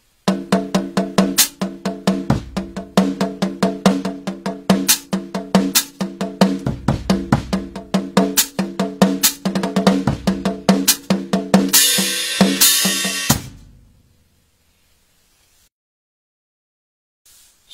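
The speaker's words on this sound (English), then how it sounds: "I'm playing basically a 16th note pattern, interspersing the hi-hat at various points." A drum kit plays a busy, even 16th-note groove with crisp hi-hat strokes and steady kick hits, then stops abruptly and leaves silence.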